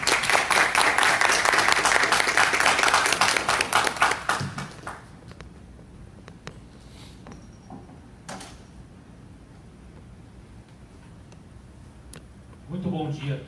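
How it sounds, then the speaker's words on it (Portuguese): Audience applause for the speakers at a lecture on Roberto Campos and the 1988 Brazilian Constituent Assembly, a dense burst of clapping that fades after about four seconds into quiet room noise with scattered small knocks. "peço uma salva de palmas para os nossos palestrantes"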